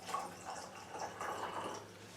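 Leftover moonshine pours into a lemonade mix as a close, moderately quiet liquid trickle with soft bubbling and dripping that rises and falls unevenly, with no speech.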